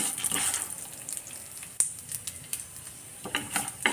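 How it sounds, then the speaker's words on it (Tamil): Mustard seeds and puliyodharai spice powder fry in a little oil, giving a close, light sizzle broken by sharp crackling pops and scattered ticks, with no talking. "எண்ணெயிலேயே இந்த கடுகு வெடிக்கிறதுக்கு மட்டும்தான் அந்த ஆயில் போட்டிருக்கு, அதிலே இதை நல்லா வறுத்துருவோம்."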